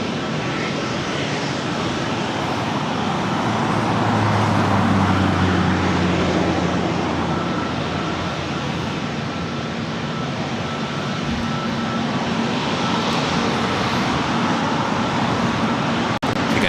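A jet airliner on approach to land at LAX roars in a steady, broad wash of engine noise that holds loud throughout, with faint voices underneath.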